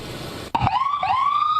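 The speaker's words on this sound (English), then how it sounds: "Ambulances speeding by Kearney Hospital" Ambulance siren speeding past a hospital in Dorchester, a loud nearby wail that cuts in suddenly after a sharp thump, then sweeps up in long rising tones over traffic noise.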